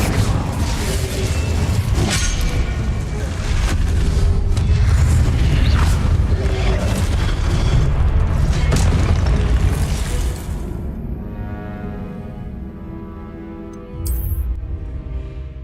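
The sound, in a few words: Confringo and Incendio spell explosions in the Hogwarts Legacy video game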